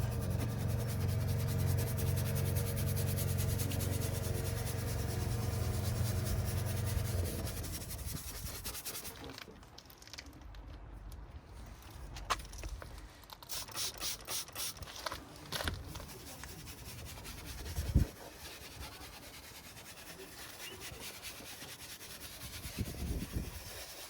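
Close rubbing and wiping as cleaning product is worked into a neglected car's surface, first washed after sitting a year; a dense, steady scrubbing texture for several seconds, then scattered lighter strokes, taps and crinkles, no talking.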